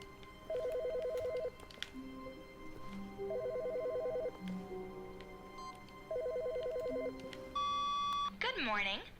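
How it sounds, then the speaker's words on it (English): A telephone rings inside an office in The Stanley Parable, sounding as three bursts of rapid electronic trilling spaced about three seconds apart, then a sustained tone. Someone talks over and between the rings. "I heard is that a phone?"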